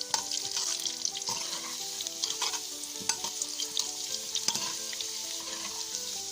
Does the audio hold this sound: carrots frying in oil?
yes